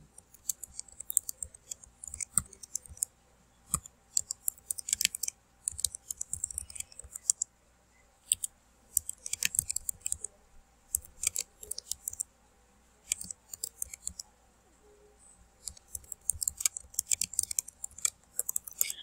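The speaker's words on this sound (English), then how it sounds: "we're going to type in the RSVP information where it says, please respond by October 29 to Cindy Lou." Someone types RSVP details into Word on a computer keyboard. Bursts of quick, light plastic key clicks come close up, separated by short pauses.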